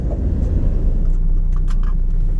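A bus pulls up at a stop, its low engine rumble steady and close throughout the short stretch, with no voices over it.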